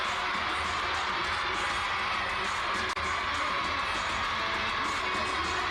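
A crowd at a speed skating race at the Four Continents Championships in Hachinohe cheers in a continuous, loud roar.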